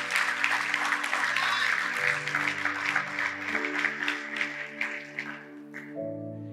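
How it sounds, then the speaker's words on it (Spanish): A church congregation claps together over sustained keyboard or organ chords, the applause steady and fairly loud before easing off near the end. "¿Le puedo dar un aplauso al Señor de nuevo?"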